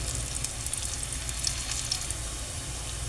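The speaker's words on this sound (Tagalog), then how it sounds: "Sama na natin yung sibuyas. Sabay din yung naluluto. Ayan. Pa-golden brown muna natin." Chopped onion and garlic sizzle in a pan, sautéing toward golden brown as the base for ginisang monggo. The frying hiss is steady and close, with occasional stirring and no speech.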